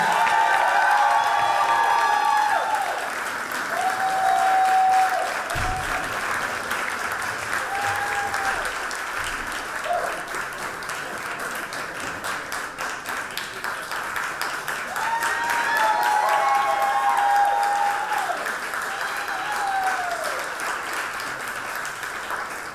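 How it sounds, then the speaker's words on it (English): Audience applause at an LGBTQ equality gala in Palm Beach, Florida: a dense, sustained roar of many hands clapping with some cheering, steady throughout and swelling again toward the end, with no talk over it. "Another round of applause for the students who are up here, whose voices we need to lift up."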